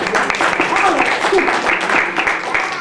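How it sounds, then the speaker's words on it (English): A room of trainee teachers and children on a training course gives a round of applause, steady clapping from a group carried over a continuous murmur of voices. "I think we should give the children a hand, a round of applause."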